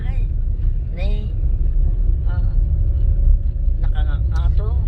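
Steady low road rumble from inside a moving car, with people chatting in Tagalog over the engine and tyre noise throughout.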